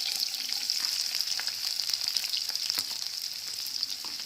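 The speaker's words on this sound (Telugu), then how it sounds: "దోరగా వేయించుకోవాలి" Green chilies slit lengthwise and chopped onions frying in a pan for a chicken and chana dal curry, giving a steady, close hiss of sizzling oil with faint crackles throughout, no voices.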